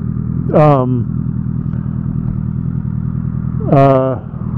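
A motorcycle riding along a road gives a steady, loud engine drone mixed with wind rush throughout, and two brief voice-like sounds rise over it.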